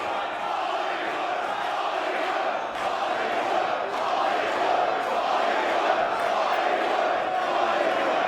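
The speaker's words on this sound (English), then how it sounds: "Crowd firmly behind the Bollywood Boys here. They're calling for it once more." Wrestling fans at a WSW Legacy Sydney show chant in unison for the Bollywood Boys, a loud, rhythmic crowd roar that swells and pulses steadily throughout.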